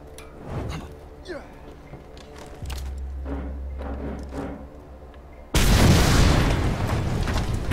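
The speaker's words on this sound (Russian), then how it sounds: "Взрываем бочечку." Barrel blowing up in the Mad Max video game: a sudden loud blast that turns into a roaring, noisy burst and sustains to the end, preceded by quieter game sounds and a low rumble.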